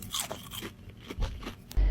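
Crispy chicken nuggets crunch under several quick bites, each one a sharp, close crackle with chewing in between.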